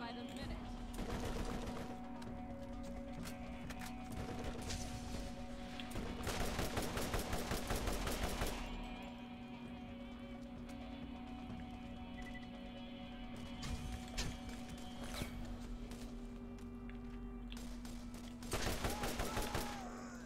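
Video game gunfire in Borderlands, with bursts of rapid shots and fusillades recurring through the scene, loudest around the middle and near the end, over a steady electronic hum and game ambience while players talk.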